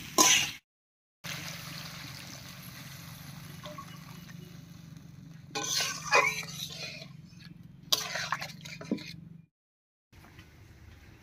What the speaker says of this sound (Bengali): এবার একটুখানি জল দেবো।